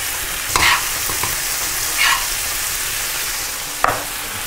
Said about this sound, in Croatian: Povremeno promiješati tjesteninu da se ne bi zalijepila za dno posude.